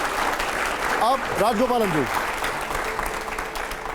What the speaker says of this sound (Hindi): मैं चाहूंगा एक बार जरा जोरदार तालियां हो जाए